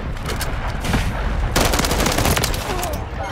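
Gunfire in Call of Duty Modern Warfare 3 on the Highrise map: sustained rapid automatic bursts rattle continuously, with a louder, denser volley breaking in halfway through and continuing close and loud to the end.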